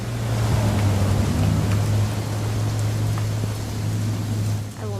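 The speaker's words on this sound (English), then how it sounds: "It's gonna rain the whole weekend, isn't it?" Steady rain falls in What Remains of Edith Finch, a dense continuous patter over a low droning hum, loud and unbroken for the whole stretch.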